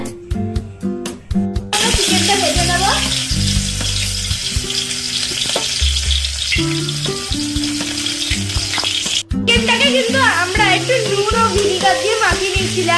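Hot oil sizzles loudly in a wok while soup is made for homemade momos, a steady close crackling hiss throughout, with a clattering start and a brief break near the end, and a person talking over it.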